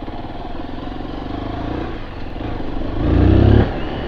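A Zontes GK350 motorcycle engine runs at a steady idle nearby, then revs up briefly into a louder, throatier burst before settling back down, with no talking.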